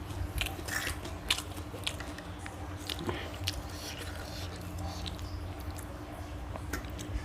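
Fried rice being eaten up close, with soft repeated bites, chewing and moist squishing sounds at a quiet level, no talking.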